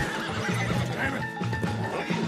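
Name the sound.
horse neighing in video game Red Dead Redemption 2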